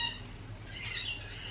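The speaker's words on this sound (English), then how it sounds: "The birds are busy today, can you hear them?" Birds call outdoors, a faint squawk rising briefly above a low background murmur.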